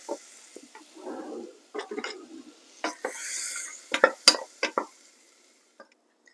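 Butter and chopped fresh blackberries cooking in a pan over medium-low heat for a sauce, with soft sizzling and repeated utensil scrapes and clinks against the pan, close and clear.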